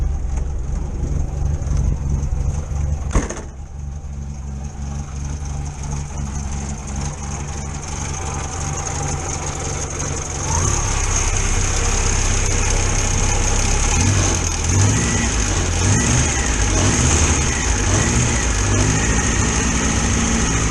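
The engine of a Morris Minor idles steadily after an oil change, a loud, continuous low rumble with one sharp knock near the start; the running grows slightly fuller and louder partway through, with no voices.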